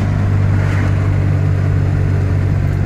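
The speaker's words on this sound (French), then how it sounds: "On entend les camions passer, vous entendez." A steady low rumble of trucks rolling past on a road, heard from inside a 2017 Ligier JS50L, continuous and fairly loud with engine drone throughout.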